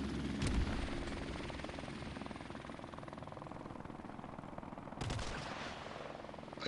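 Helicopter rotor thrumming steadily in Call of Duty: Modern Warfare Remastered, with sharp bursts of gunfire cracking over it twice, mid-distance and continuous.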